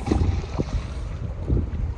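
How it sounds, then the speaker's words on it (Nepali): Strong wind blowing beside the Bheri river in Surkhet, buffeting the microphone in a continuous low rumble with gusty swells and no voices. "धेरै हावा नि चलिरहेको त्यसैले अलि छ क्या"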